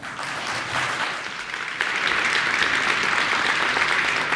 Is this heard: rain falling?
no